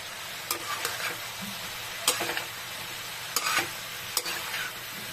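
Vegetable guisado with pechay and soft squash stirred in a pan, with a steady low sizzle and several distinct scraping strokes of the spoon at a moderate distance.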